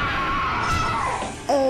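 A troubled female spirit screams while crouched on the floor of a cell, a loud, sustained, wavering wail that rises again sharply near the end, with no speech.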